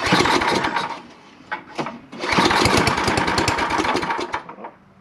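Toro snow blower engine sputters to life, briefly catching and dying around the second mark, then firing again into a loud, steady revving run with pulsing low rumble before cutting back near the end.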